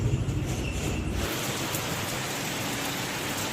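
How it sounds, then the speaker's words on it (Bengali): Heavy rain pours steadily in a dense, hissing wash, with a deep rumbling undertone at the start that fades after about a second. "এই দেখুন জোরে বৃষ্টি নেমেছে"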